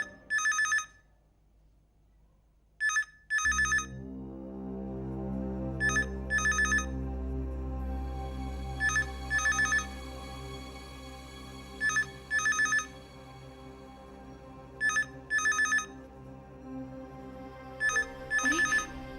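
A telephone rings in repeated short double bursts every few seconds over a steady, loud musical drone.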